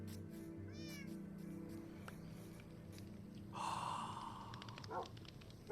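Cats meow in a Minecraft-style video game, a short rising mew early on and later a louder, brighter meowing call, heard faintly over a low steady game background hum.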